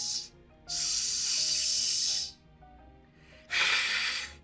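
A voice imitates a cat with breathy hissing purrs, three bursts of rough airy noise separated by brief quieter gaps, alone and fairly close.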